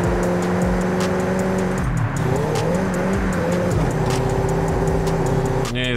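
An engine in the Forza Horizon 5 racing game revs hard in third gear, a loud, buzzy, rising drone that dips at a shift, with brief tire squeal over it.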